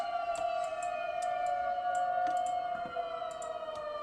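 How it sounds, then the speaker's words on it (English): A steady siren tone holds throughout at moderate level, with faint scattered clicks and taps close by. "Oh, sirens."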